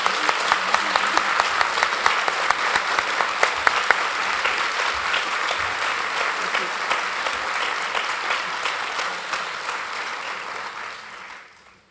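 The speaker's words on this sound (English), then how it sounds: "Would you please give them one more round of applause?" An audience at a nurse researcher hall of fame ceremony gives a long, sustained round of applause, dense clapping that holds strong before fading out at the end.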